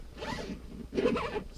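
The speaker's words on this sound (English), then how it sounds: "You've got the zippers." Zipper on a Bison Coolers SoftPak 12-can soft cooler, pulled in two quick close-up strokes with a short pause between them, quiet and alone.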